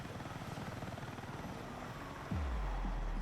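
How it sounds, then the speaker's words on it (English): Attack helicopter in Battlefield 6, a rapid rhythmic rotor chop that gives way to a loud, steady low engine drone, close and continuous with no talk. "We get the chopper one last time"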